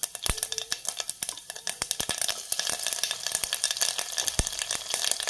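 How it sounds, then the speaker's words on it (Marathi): Cumin and garlic sizzle in hot oil for a puri bhaji, with dense, sharp crackles and pops snapping close by over a steady frying hiss. "आणि नंतर जिरे, आणि आता घालूयात लसूण।"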